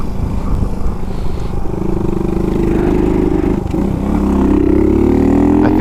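A Suzuki DR 200 enduro motorcycle with a 200 cc engine rides at speed, its steady loud engine drone rising in pitch as it accelerates near the end, with wind rush throughout and no talk.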